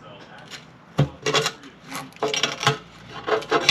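Old RTV sealant is scraped off a car engine's oil pan surface in short, uneven rasping strokes close by, with pauses between the passes.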